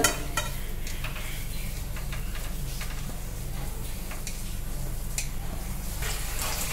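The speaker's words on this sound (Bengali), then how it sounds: "আমি এই যে আলুটা এই তেলের মধ্যে কিন্তু সম্পূর্ণটা ঢেলে দিচ্ছি বন্ধুরা" Hot oil in a pan sizzles softly and steadily after potatoes are poured in for a bread roll filling. A few light stirring taps and utensil ticks sound over the quiet frying.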